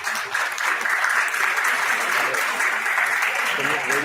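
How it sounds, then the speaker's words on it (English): Sustained applause from an audience at a dental sciences and oral health conference, a dense steady wash of clapping that continues without a break throughout. "Come on, people, clapping should not stop."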